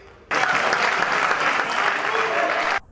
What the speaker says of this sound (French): Marie-Thérèse Masuka Saini a été longuement applaudie.